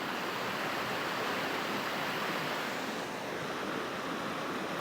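River rapids in the Northern Cascades rush close by as a steady, loud broadband roar of churning water that holds without a break.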